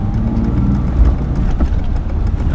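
Interior drone of a BMW E36 with MaXpeedingRods coilovers on a short test drive, a continuous loud low rumble of engine and tyres with a slight surge partway through.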